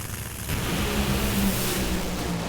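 A top fuel dragster at a drag racing event spins and smokes its tires: a loud, steady, dense engine roar with a broad rumble, heard close and unbroken throughout.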